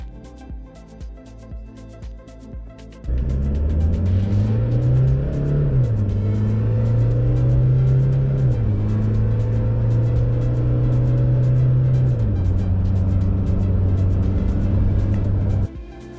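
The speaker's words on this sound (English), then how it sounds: "We're now going to do a quick launch from 0 to 100 as I press power mode." 2023 Toyota Hilux RS in power mode accelerating hard from 0 to 100 km/h after a quiet idling start, engine note climbing through several gear changes, loud and close from inside the cabin, no speech.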